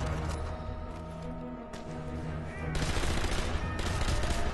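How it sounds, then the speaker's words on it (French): Machine gun fire in Sniper Elite V2, continuous loud rattling bursts mixed with game sounds, growing denser and harsher toward the end. "Le mitrailleuse c'est infernal ce machin."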